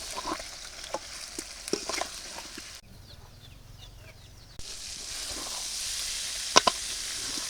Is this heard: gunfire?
no